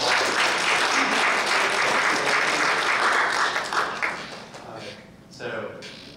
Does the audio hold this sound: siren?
no